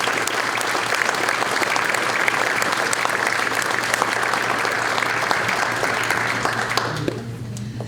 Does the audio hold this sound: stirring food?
no